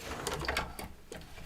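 An embroidery machine stitches a mug rug in the hoop, giving a quick, close mechanical whirring and rhythmic clatter during a short burst.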